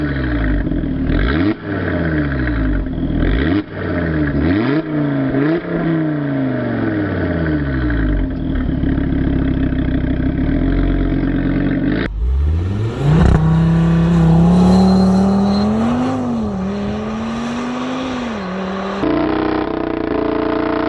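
An older Audi RS3 with its five-cylinder engine and stock exhaust revs loudly, with repeated rising and falling sweeps, then a long sustained wail as it pulls hard and climbs through the revs, close and with no talk over it.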